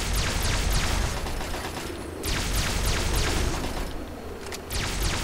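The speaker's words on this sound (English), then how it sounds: "Let's throw a frag mine." Frag mine detonation in Fallout 3, loud and continuous: dense crackling gunfire-like bursts and booming rumble fill the whole stretch, with repeated sharp blasts and no pause.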